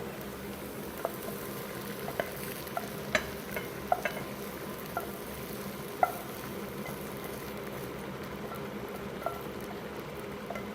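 Onions stirred into tomato sauce in a pan give a soft, steady bubbling simmer with light scraping and occasional small taps from the utensil, fairly quiet throughout and with no voices.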